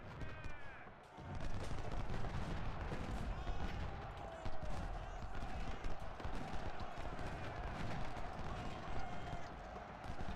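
Battle din from the Civil War video game Ultimate General: Civil War at Chickamauga, with 24-pounder artillery booming amid a dense steady roar of distant gunfire and marching troops, moderately loud throughout.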